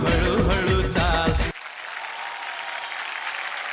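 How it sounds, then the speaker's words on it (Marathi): Audience clapping at a televised Marathi women's show, loud music cutting off abruptly and giving way to sustained steady applause. "एकदा जोरदार टाळ्या होऊन जाऊ देत."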